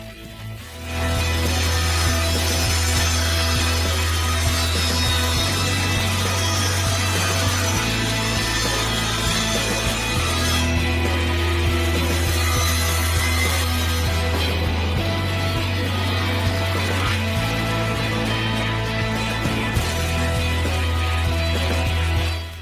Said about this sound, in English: I cut strips with a width of 42 millimeters from it.